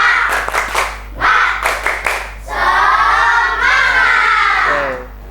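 Classroom children perform a rhythmic spirit clap led by their teacher, sharp bursts of clapping in a patterned beat followed by a long loud stretch of children shouting and chanting together.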